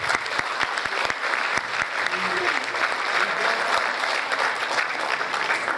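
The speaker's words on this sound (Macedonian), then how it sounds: "Аплауз за сите нив" A concert audience at a New Year folk music and dance show claps steadily in a continuous, loud wash of applause lasting several seconds, with faint voices beneath.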